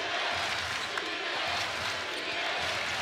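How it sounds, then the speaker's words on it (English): A college basketball crowd at TD Arena during an Iona vs Charleston men's game gives off a steady, building murmur of voices that fills the space, with faint bouncing and court noise beneath it. "The crowd at TD Arena now starting to get into it"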